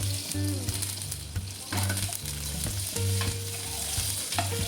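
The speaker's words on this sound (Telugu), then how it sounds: "పోపులు ఇలాగ చిటిపెట్లాడే వరకు వేయించుకోండి" Mustard seeds, dried red chillies and curry leaves crackle and sizzle continuously in hot oil as a tempering, with rhythmic scraping and clinks of a spoon stirring the pan, close and steady.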